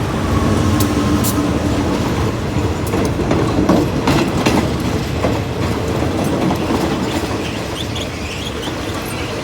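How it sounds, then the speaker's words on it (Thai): Thai State Railway GEA 4538 diesel locomotive hauls an express parcel freight train near Ban Pong, its steady rumble and clickety-clack of wagons loud and close, running continuously with no pauses. "GEA 4538นะครับทำกระบวน สินค้าห่อพัสดุส่งด่วนนะครับ"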